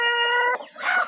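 Colombian Bahama chickens, light Bahama birds on a farm, with a loud, near rooster crow holding a steady harmonic tone before breaking off, followed by a short rougher clucking call.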